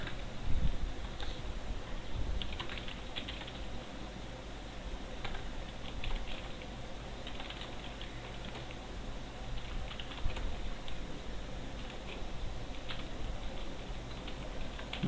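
Steady computer keyboard typing while HTML code is entered, a close, continuous patter of key clicks with occasional louder strokes and no speech.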